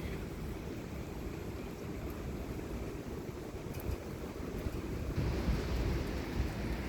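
A heavy thunderstorm with strong winds in southeastern Pennsylvania roars outdoors as a broad, continuous rush of wind and rain, swelling louder near the end with gusts buffeting the microphone.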